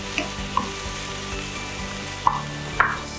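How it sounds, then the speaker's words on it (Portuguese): Onion and chopped leek sautéing in a pan as the base for a shrimp risotto: a quiet, steady sizzle with a few soft clicks from stirring, and no talking. "Eu vou adicionar um pouquinho do alho poró. Vou esperar ele dar uma dourada também, dar uma refogada aqui nele."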